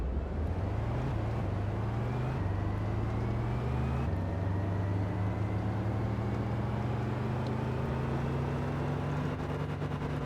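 Steady, loud engine drone of a vehicle in Stormworks, revving with its pitch stepping up in stages and then holding a high, sustained whine throughout.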